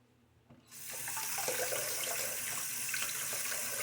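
A tap opens and water runs steadily into a sink while a razor is rinsed. The close, continuous splash starts after a brief quiet moment and stays even throughout.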